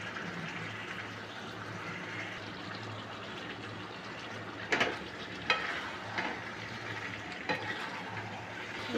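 Meat for Bengali kosha mangsho stir-fries with onions in a pan, giving a steady low sizzle with a few brief scrapes and stirring knocks, close and fairly quiet.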